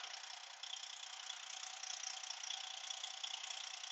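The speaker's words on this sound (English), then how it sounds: "sorry about the noise, but I gotta have the engine running for this." Steady mechanical drone of an idling Freightliner Cascadia truck diesel engine, even and continuous with a faint rattly texture, heard close up with no voices.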